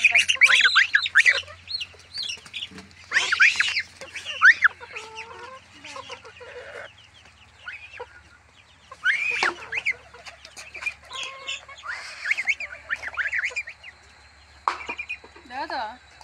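Backyard household chickens and ducks clucking and squawking close by in irregular bursts with pauses between, mixed with chirpy calls and some human voices in the background.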